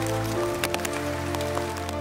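Heavy rain pours steadily during a hike, a dense continuous hiss with scattered louder drops spattering close by, and no one speaking.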